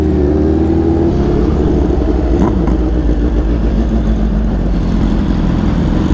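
A Kawasaki Ninja H2 motorcycle with a lowered frame runs close and loud, its engine holding a steady low droning rumble with slight pitch shifts as it rolls along slowly.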